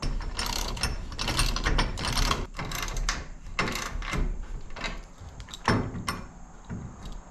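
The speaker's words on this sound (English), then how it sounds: "a 17mm socket on the other to tighten it up" A ratchet wrench with a 17mm socket tightens a bolt on a kayak hoist bracket, giving rapid bursts of sharp metallic clicking in repeated strokes with brief pauses between, loud and close.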